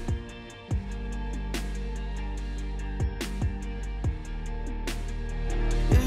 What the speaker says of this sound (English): played some live drums to layer over the top of them, and they sound like this